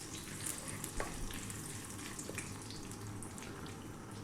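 Curry leaves crackle and sizzle in hot oil, a steady hiss with small pops, close by and with no talking.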